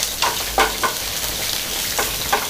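Onions fry in a pan over low heat, giving a steady soft sizzle broken by a few short scraping stirs, close up with no talk.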